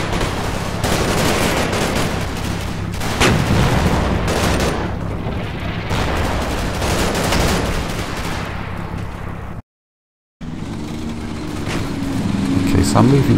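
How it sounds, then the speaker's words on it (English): A tank rolls forward in the Combat Mission Market Garden World War II game, its steady engine rumble running beneath repeated bursts of gunfire and distant booms, with a brief dropout partway through. "So I'm moving this tank up."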